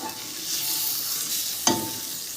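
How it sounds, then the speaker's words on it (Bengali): Dried fish bhorta frying in a steel wok, with a steady soft sizzle under a spatula being stirred and a single sharp metallic scrape near the end. "এরকমভাবে কিন্তু নেড়ে যেতে হবে, নাহলে তলায় লেগে যাবে।"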